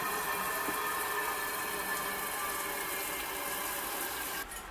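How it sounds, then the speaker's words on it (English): Steady rushing water pours continuously into a canner, a full even splash like a tap filling a large pot, with no talking. "put water in the canner."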